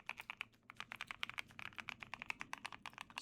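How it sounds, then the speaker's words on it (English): A mechanical keyboard with mint keycaps is typed on normally, giving a quick, close run of crisp, uneven clicks and clacks with no talking. "Regular typing."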